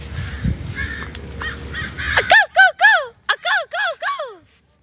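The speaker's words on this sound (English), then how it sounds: "The crows know what's up." Several crows caw outdoors, first one or two calls under background noise and then a rapid series of about eight loud, harsh caws close by, each short and clipped with brief gaps between.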